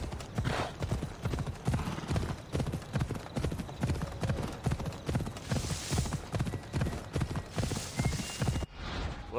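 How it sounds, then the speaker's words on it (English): Horse hooves clip-clopping at a steady trot in the video game Assassin's Creed Odyssey, a close, rhythmic run of hoofbeats that goes on throughout. "Horsey, there's a horse."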